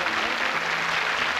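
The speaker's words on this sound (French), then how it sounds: "le public applaudit" Studio audience applauding on a French radio game show, a dense, steady wash of clapping heard close and loud, with no break across the short stretch.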